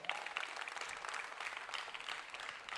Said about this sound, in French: Et pour moi par applaudissement.